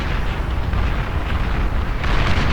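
Fusion reactors blowing up in the real-time strategy game Beyond All Reason during an 8v8 battle, a dense, continuous rumble of overlapping booms and blasts that swells slightly near the end, with no talking.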